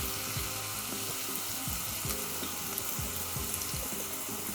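Cumin seeds frying in hot oil in a pan make a loud, continuous hissing sizzle with a watery crackle, while a low, steady tonal hum runs underneath throughout.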